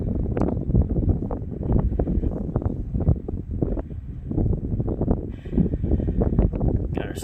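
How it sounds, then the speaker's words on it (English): Strong wind buffets the microphone outdoors during an oil change on a RAM ProMaster van, a steady rough rumble with gusty surges throughout and a few faint clinks. "It's pretty windy today."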